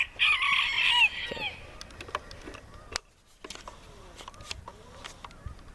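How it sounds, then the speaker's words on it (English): Bantam chickens out in the yard give a loud crow near the start, then scattered clucks and soft calls continue at moderate distance. "Few of the bantams hanging out over here."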